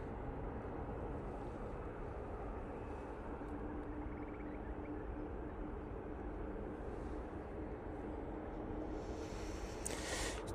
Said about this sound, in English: Tui going off to Lanzarote now